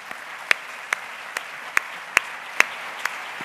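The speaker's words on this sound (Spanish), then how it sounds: "espero que todos ahora demos las gracias con un gran aplauso a Antonio." Sparse, evenly spaced claps at a poetry presentation, about eight sharp strikes over a few seconds with quiet room tone between them.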